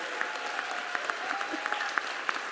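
An audience at a police awards ceremony applauds an award recipient, steady dense clapping filling the hall with scattered louder individual claps standing out.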